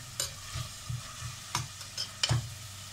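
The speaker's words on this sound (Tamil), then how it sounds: "இப்போ இது கொஞ்சம் லெமன் ஊற்றினப்புறமா கொஞ்ச நேரம் இது இன்னும் கொஞ்சம் ஒரு 1 மினிட் அப்படி வதங்கட்டும்." Mint rice with lemon juice stirred and sautéing in a pan, with soft sizzling and a few distinct scrapes of a spoon against the pan at a slow, irregular rhythm, close by and without voices.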